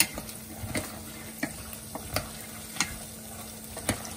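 Extra garlic frying in oil in a pan, with a utensil stirring and scraping so that sharp clinks come at irregular intervals over a steady, close sizzle.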